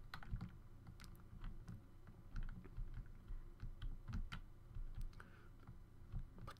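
Computer keyboard keys tapped repeatedly while playing Minecraft Pixelmon, an irregular run of quick, light clicks spread across the stretch, close and fairly quiet, without speech.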